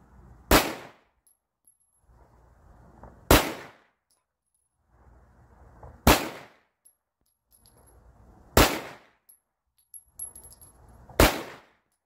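A Springfield SA-35 Hi Power pistol fires 9mm rounds, five sharp, loud single shots spaced about two and a half seconds apart, each followed by a brief rustle before the next.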